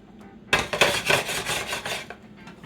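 A spoon stirs chicken pot pie filling with fresh parsley in a pan, a steady scraping, rubbing sound for about a second and a half, close and fairly loud, with no talking.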